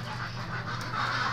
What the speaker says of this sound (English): Get away from me, chickens!